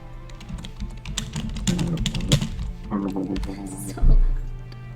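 Computer keyboard typing during a gaming session: dense, irregular key clicks run throughout, heard close under steady speech.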